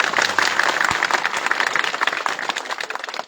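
An audience claps at a gathering in Visavadar to welcome MLA Gopal Italia after his election win. The clapping is dense and steady and sustained, without a single standout voice.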